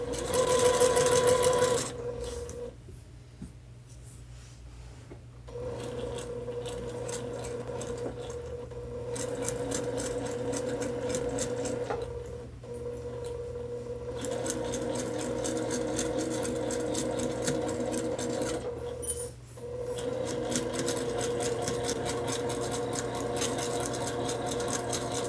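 A home sewing machine steadily stitches fabric around a heart-shaped pillow, its motor humming continuously with a few brief pauses and stops between runs of stitching, close and clear with no talk.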